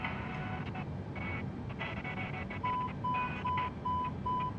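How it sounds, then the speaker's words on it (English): Repeating electronic beeps of a door-open alarm in an Airbus A320neo cockpit in Microsoft Flight Simulator 2020, sounding in a steady on-off pattern over a constant engine and ventilation hum. "Oh, that's our alarm, because the door's open"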